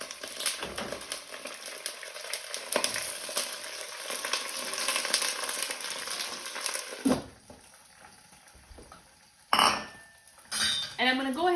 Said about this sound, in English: I'm also going to go ahead and add my sugar snap peas.